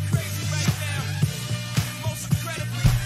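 Several songs layered together in a Reaper project play as a single mix with a steady rhythmic beat and a sustained low bass line, moderately loud and without talking.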